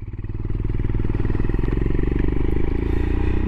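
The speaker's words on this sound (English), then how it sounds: "we're going to get on the bike and we're going to do a little ride" Royal Enfield Himalayan motorcycle engine running steadily while riding, a close, loud, continuous thumping drone with a regular low pulse and no break throughout.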